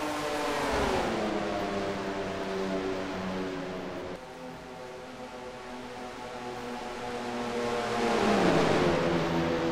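Stock race cars in a video game roar across the finish line at Charlotte, including the 31 Channel Lock Oldsmobile, with steady layered engine drones that rise and fall in pitch, loudest near the end, under no talk.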